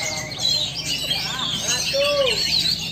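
Oriental magpie-robins (kacer) sing at a bird contest, a mix of bright whistled chirps and sliding tweets over crowd murmur and steady background noise, moderately loud.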